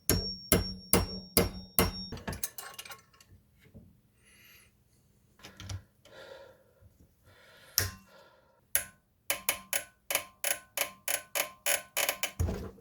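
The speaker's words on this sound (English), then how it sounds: "We're just gonna keep hammering." Hammer blows driving a driveshaft dogbone pin out, sharp metallic strikes in quick rhythmic bursts, separated by quieter stretches of scraping and shuffling, then another fast run of steady hits near the end.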